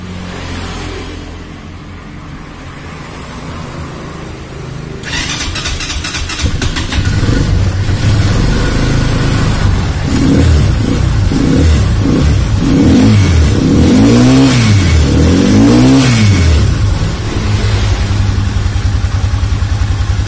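A stalled motorcycle cranks and starts after a few seconds, then idles loudly and revs several times, each throttle blip rising and falling in pitch, with steady engine noise throughout.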